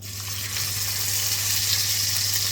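Ribeye steaks sizzling in a generously oiled pan over medium-high heat, a loud steady frying hiss that swells after the first half-second and holds, close up with no talking.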